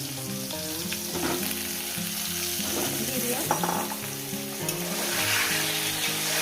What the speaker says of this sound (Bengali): আলুগুলোকে আমি সুন্দর করে লাল লাল করে ভেজে নেবো